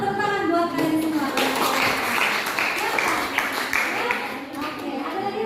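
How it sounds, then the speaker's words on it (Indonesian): A classroom of students clapping together in a mathematics lesson, a dense burst of applause that swells after a brief voice and carries on steadily for several seconds. "Tepuk tangan buat kalian semua."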